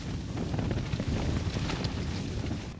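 Strong gusting wind buffets a tent during a polar vortex cold snap, a constant rumbling roar with irregular surges, close and loud.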